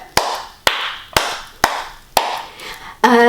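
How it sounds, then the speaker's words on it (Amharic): Hands clap five times in a steady rhythm during a children's exercise routine, each clap sharp and close, followed by a brief burst of another sound at the end. "ማጨብጨብ"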